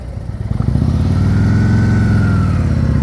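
A motorcycle rumbles loud and close during slow-speed riding practice, its engine revving up and holding a steady throaty drone.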